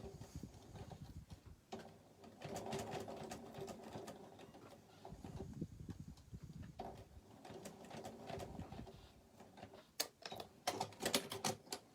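A sewing machine topstitches close to the folded edge of zipper tabs on a fabric pencil pouch. It runs in steady, rattling bursts of stitching separated by short pauses.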